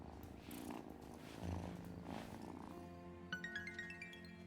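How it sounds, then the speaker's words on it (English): A cat purring in the video game Wylde Flowers, a soft low rumble under gentle background music and ambience, with a short twinkling chime near the end. "Oh, here's a kitty cat."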